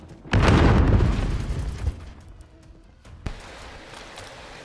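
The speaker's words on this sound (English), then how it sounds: "Throwing frag." A frag grenade explodes in Call of Duty Modern Warfare with one loud, close boom that rolls off over about a second, followed by quieter ambient game noise and a faint later thud.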